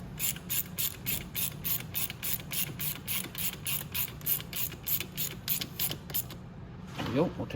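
Ratchet tightening a front fork bolt on a Venom Roma 50cc scooter makes a steady run of close, even clicks for about six seconds, then stops, followed by a brief creak.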